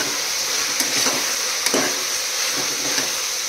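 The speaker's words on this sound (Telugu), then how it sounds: "పసుపు వేసుకొని మంచిగా కలుపుకోవాలి" Bottle gourd pieces with turmeric are stirred in a pan, a steady close sizzle and hiss with a few soft scraping strokes of the spoon, no voices.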